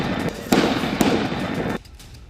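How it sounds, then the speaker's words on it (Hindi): Sharp gunshots from a terrorist attack on tourists at the Baisaran meadow in Pahalgam, two loud cracks about half a second apart over a dense, noisy background that drops away near the end. "वीडियो के बैकग्राउंड में गोलियों की आवाज सुनाई दे रही है"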